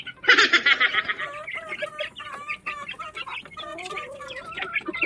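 Hens clucking close by with many chicks peeping in a cage, starting with a loud burst of clucks and then continuing as repeated high cheeps.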